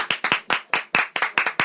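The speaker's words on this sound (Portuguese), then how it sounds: "Aplausos." A few people clap by hand, close by, in an uneven run of sharp, separate claps with short gaps between them. No one speaks.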